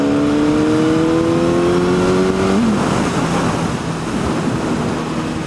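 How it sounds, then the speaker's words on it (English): A car passing close behind a cyclist on a cold-weather road ride, a loud engine drone with a pitch that climbs then drops as it goes by, over steady wind rush. "I've got a car behind me who's trying to pull into my lane"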